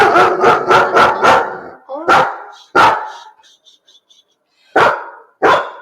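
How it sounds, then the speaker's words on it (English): A dog barks loudly and close by, first in a quick burst of four barks, then in single barks separated by short gaps, with faint sounds in the quiet stretch between them. "There's people shouting outside, so she's barking."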